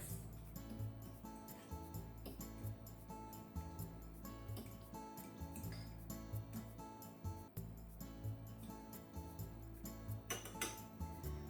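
A spoon scrapes and clinks against a pot while crab porridge is stirred, in repeated soft metallic knocks over a faint background hum.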